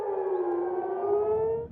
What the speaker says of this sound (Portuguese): Sirenes voltaram a soar em todas as regiões do país.